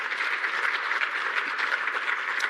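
A symposium audience at a climate resilience event claps in a steady, dense round of applause, sustained and fairly loud throughout with no pauses.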